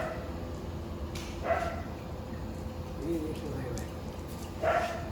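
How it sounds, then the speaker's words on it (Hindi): A greedy dog sits waiting for a bone at home, giving a few short whining yelps spaced a couple of seconds apart, moderately close, with steady background noise. "मैं आपको दिखाता हूँ एक लालची डॉगी जो तैयार बैठा है।"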